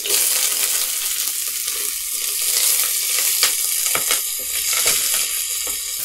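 Chopped onions frying in oil in a pot as the base for a tomato soup, giving a steady, close sizzle with a few faint clinks and stirring sounds, and no talking.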